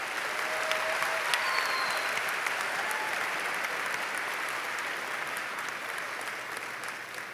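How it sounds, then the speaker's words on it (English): A graduation ceremony audience gives a sustained round of applause for graduates, with dense, even clapping that holds steady across the whole stretch and tapers only slightly toward the end. The clapping fills a large hall, and no speech rises above it. "Let's have a big round of applause for all of these graduates."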